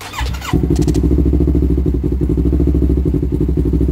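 A Yamaha R3 motorcycle engine catches after a brief start and settles into a loud, close, steady idle with an even, throbbing pulse throughout.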